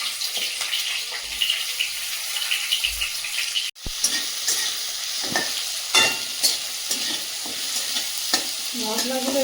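Spices and tomato fry and sizzle in a pan while being stirred, giving a steady crackling hiss broken by scraping stirs and a brief sharp cut partway through, with no voices.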